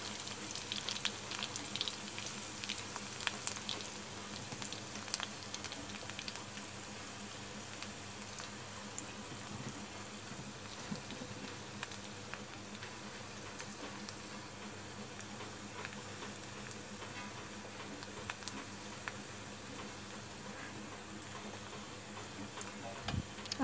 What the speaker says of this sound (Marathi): लसूण थोडी अशी लाल होऊन द्यायची.